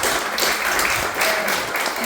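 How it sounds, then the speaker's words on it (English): Audience at a young adult career and college panel claps in a short burst of applause, steady and fairly close. "Let's give everybody a round of applause."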